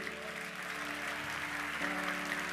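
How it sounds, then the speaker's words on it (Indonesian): Crowd clapping at a youth church conference, a continuous wash of applause running under sustained music tones, moderately loud throughout. "Tepuk tangan buat Tuhan, jangan tanggung."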